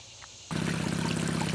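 Water from a 1.5 horsepower, 50 gallon per minute pump starts rushing through a Gold Hog sluice with Razorback matting, switching on abruptly from a quiet hum into a loud, steady flow with a low droning undertone.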